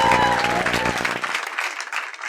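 Audience applause at a stand-up comedy show at The DC Improv, Catholics in the crowd clapping on request, loud and dense at first with a cheering voice, then thinning out over a couple of seconds.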